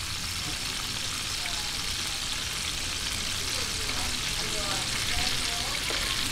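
Milkfish frying in a covered pan on a stove, a steady loud sizzle with crackling splatter throughout, with a voice speaking over it.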